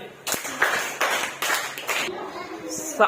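Schoolchildren in a third-grade classroom clapping in a few uneven bursts over about two seconds, close and moderately loud, overlapping with children's voices.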